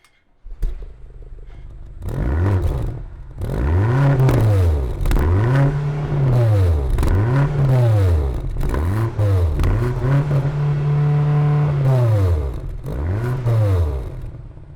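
A BMW XM's engine revs hard again and again, about seven sharp throttle blips in a row, with one longer held rev near the end, loud and close.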